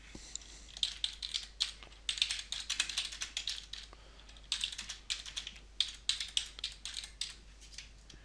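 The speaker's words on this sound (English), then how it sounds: "I need to type a title and then just copy and paste the link." Fingers tapping out text on a computer keyboard in a quiet room, a steady run of close, crisp keystrokes in uneven bursts with brief pauses between them.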